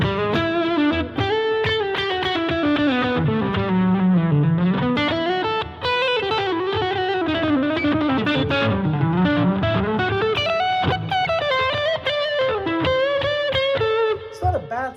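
Electric guitar played through a Boss ME-90 multi-effects unit using its original built-in cabinet impulse response, a distorted tone with sustained chords and melodic lines, loud and continuous with brief pauses and no talk.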